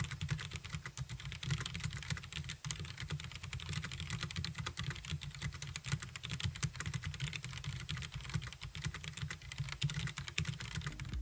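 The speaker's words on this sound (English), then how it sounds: "The sound produced when typing is satisfying, and I think it is a bit louder than other Brown-style switches" Steady, rapid typing on a Roccat Vulcan 100 AIMO mechanical keyboard with Titan brown-style switches and an aluminum plate, close and continuous clacking keystrokes with no voices.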